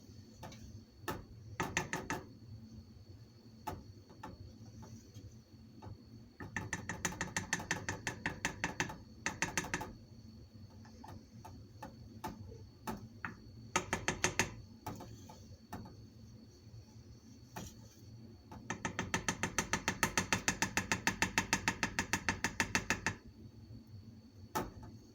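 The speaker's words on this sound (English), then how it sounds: "You need to consistently stir it because if not, it gets burnt on the side." Chocolate melting in a pot, stirred steadily so it will not burn on the sides, gives bursts of rapid scraping and clicking strokes that come in several runs with quieter gaps between them.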